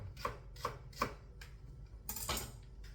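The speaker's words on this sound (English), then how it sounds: "And that way it's just uniform cuts, because there's so many layers to an onion." A knife chops an onion into uniform slices on a cutting board, each stroke a sharp, close knock in a steady, unhurried rhythm of about five cuts, the last coming as a longer, rougher scrape.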